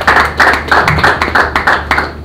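Audience clapping in rhythmic unison at a live music celebration concert, about seven evenly spaced bursts of claps over a steady low backing hum, loud and close.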